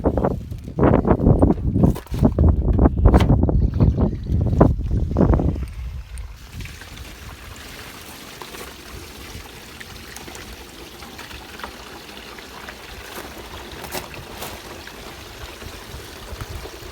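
An RV gray water tank holding kitchen and bathroom sink water drains through its hose, starting with loud gurgling gushes and splashes that settle into a quieter steady trickling flow.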